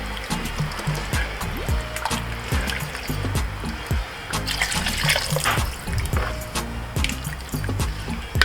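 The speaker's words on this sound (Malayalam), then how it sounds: "ചിക്കൻ ആവശ്യത്തിന് മുങ്ങിക്കിടക്കാവുന്ന രീതിയിൽ വെള്ളം ഒഴിക്കാം" Roughly a litre and a half of water pours into a pan of chilli chicken gravy, a close, continuous splashing trickle punctuated by a few light clinks.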